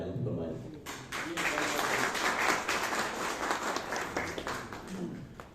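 Audience at a corporate annual marketing meeting applauding as a presenter is called to the stage; steady broadband clapping from a crowd fills the room, with talk running underneath.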